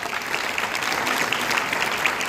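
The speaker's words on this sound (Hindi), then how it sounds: "आप सबकी तालियों के साथ" A hall audience applauds at a Himachal Pradesh digital technology and governance conference attended by the chief minister; dense, even clapping holds steady for the whole stretch, with no voices on top.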